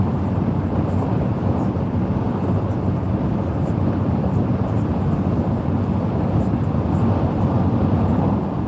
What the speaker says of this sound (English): You can probably hear a lot of the wind noise.